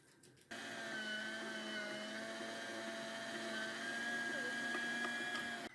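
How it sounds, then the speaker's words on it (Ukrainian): An electric grinder mincing onion for liver cake batter, a steady loud motorized whine that starts abruptly and runs continuously, with a pitch that stays fairly constant until it cuts off at the end. "Зараз кидаю цибулю, перемелю."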